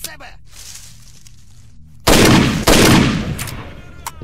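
Gunfire in the S.T.A.L.K.E.R. Shadow of Chernobyl video game while liberating the railroad: after quiet ambience, two loud close bursts of shooting hit in quick succession and ring out, followed by a fainter shot.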